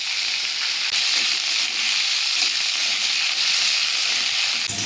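Potatoes frying in mustard oil with cinnamon, bay leaf and cumin, a steady close sizzle that hisses continuously throughout with no talking.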